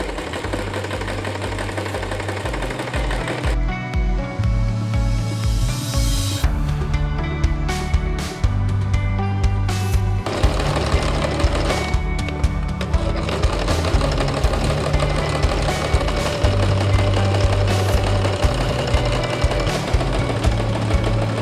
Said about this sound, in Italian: andiamo a cucire il bordino sui nostri oscuranti